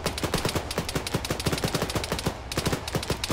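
Rapid automatic rifle fire in Arma 3, aimed at mines, crackles out as a dense string of sharp close shots with a brief pause before the burst resumes.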